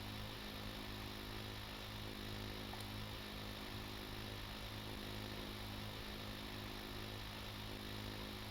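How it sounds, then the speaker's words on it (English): A deep-water drilling rig runs aboard a ship in the game Stormworks, giving a faint, steady mechanical hum with a constant low drone and no break. "So we can drill. It drills."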